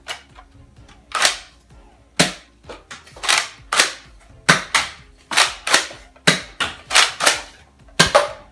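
A Nerf Star Wars Han Solo blaster fires foam darts in a series of about ten sharp, close snapping pops, spaced irregularly with brief quiet gaps between shots.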